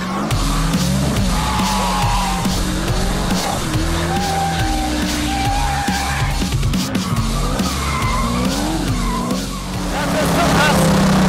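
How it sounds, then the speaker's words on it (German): A 1407 hp Pontiac Trans Am's engine roars loudly and steadily as it warms its tires, tires squealing and sliding throughout, a sustained harsh screech over the motor's drone. "Matthias fährt erstmal die Reifen warm."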